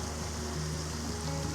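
Steady broadband rush of a river flowing around a bend on a cold, dim day, continuous and even throughout with a faint low hum beneath, no voices.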